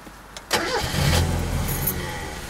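A 1991 Mazda Miata MX5 engine cranks briefly and catches, then settles into a steady close-up idle with a low mechanical hum.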